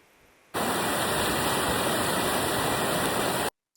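Water pours at Bhagsu waterfall near Dharamshala in the rain, a loud, dense, continuous rushing roar close by that starts suddenly and stops abruptly after about three seconds.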